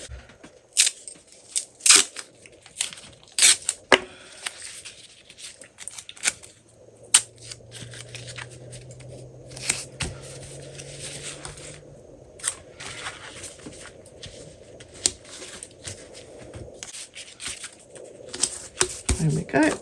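Masking tape is pulled, torn and pressed down while a fabric crossbody bag is being sewn, giving scattered crackly rips and sharp taps in irregular bursts against a quiet room, with a low machine-like hum partway through.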